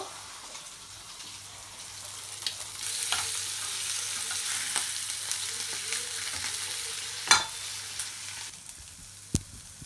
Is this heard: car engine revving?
no